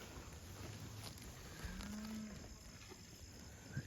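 A single cow moos once, a short low bellow heard at a distance over quiet outdoor background noise on a cattle farm, with no talk.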